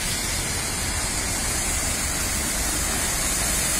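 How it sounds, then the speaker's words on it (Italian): Cars drive through a flooded street on Via Marengo in Alessandria, throwing up big waves of water, heard as a continuous loud rushing wash of splashing water with engine rumble beneath. "le macchine che percorrono questo lato"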